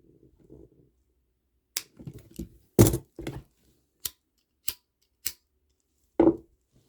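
Scissors cut string close by in a few sharp, separate snips spread over several seconds, with faint handling rustle in between.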